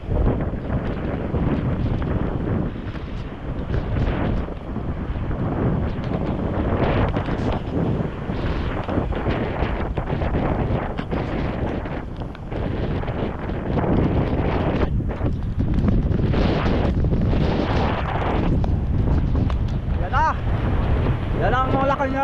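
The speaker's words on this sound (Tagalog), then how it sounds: "hangin, malakas na." Strong typhoon wind during tropical storm Uwan at Dinahican, Infanta, Quezon roars loudly and constantly across the microphone in heavy buffeting gusts, with surf-like rushing and no clear speech.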